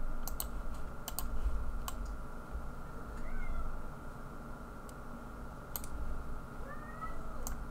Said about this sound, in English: my cat wants out, so I gotta end the video soon